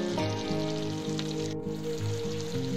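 Pre-fried cauliflower pieces with spring onion and chopped coriander simmering in a chilli gravy in a pan, a steady soft sizzle and bubbling running continuously at close range, no voices.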